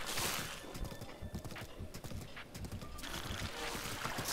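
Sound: horse galloping in video game Zelda: Breath of the Wild

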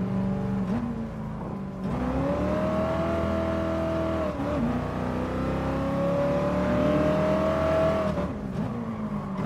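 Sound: racing car engine on Nürburgring track in Gran Turismo video game

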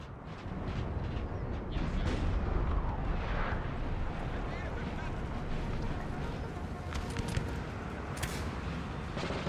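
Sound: artillery fire in video game Napoleon Total War

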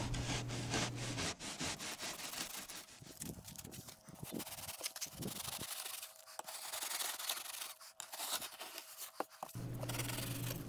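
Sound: kitchen knife scraping cement

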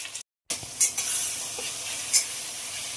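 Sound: frying onions and chopped tomatoes in a pan

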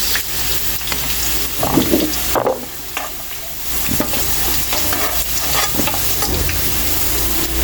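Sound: carrots and potatoes being stir-fried in a pan

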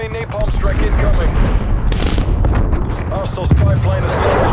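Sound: napalm strike in Call of Duty Black Ops Cold War video game

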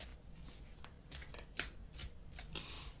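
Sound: shuffling tarot cards

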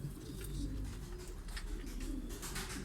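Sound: giant pigeon cooing in loft

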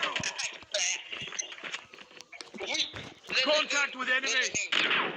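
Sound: gunfire in the video game Call of Duty

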